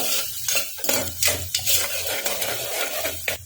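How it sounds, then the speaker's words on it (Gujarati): Onion and capsicum sautéing in a pan for a bhaji pulav, with steady sizzling broken by repeated scraping and clinking strokes of a spoon stirring against the metal, close and clear with no talk. "હવે કેપ્સિકમ એડ કરીશું એકવાર, એને બી શેકી લઈશું."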